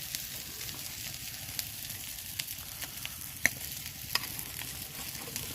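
Shrimp fry in a pan while being stirred, a soft steady sizzle punctuated by sharp irregular clicks and scrapes of the spatula, close by and with no voices.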